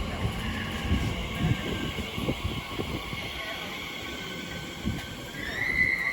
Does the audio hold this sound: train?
yes